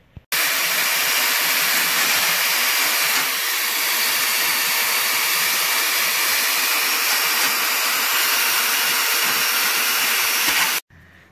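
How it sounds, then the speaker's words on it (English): Drill motor spinning a wire cup brush against metal jalousie window frames from a vintage travel trailer, giving a loud, steady, close whirring scrub that runs unbroken for about ten seconds and then stops abruptly. "over to a drill motor with a cut brush to get in here to some of these more sensitive areas"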